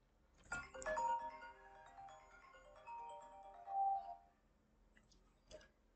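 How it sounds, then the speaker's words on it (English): A mobile phone ringtone rings out as a short melodic chime of bright tones, moderately loud in a quiet room, followed by a couple of faint clicks. "my phone just rang"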